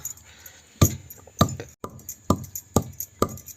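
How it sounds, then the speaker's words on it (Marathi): Repeated heavy thuds of a stone pounding coconut and spices on a stone grinding slab, roughly evenly spaced, close and distinct with quiet gaps between strikes. "मी पाट्यावर वाटून घेणार आहे"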